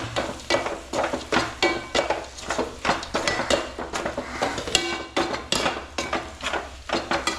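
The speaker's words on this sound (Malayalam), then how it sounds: "മല്ലിപ്പൊടിയും കൂടെ ഇട്ട് ഒന്ന് ഇളക്കാം." A spoon scrapes and knocks rhythmically against a pot while coriander powder is stirred into masala for beef curry, with a faint sizzle underneath; close, repeated strokes and no talk.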